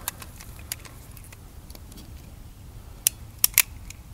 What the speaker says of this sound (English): then I'm going to get my handy dandy crimp tool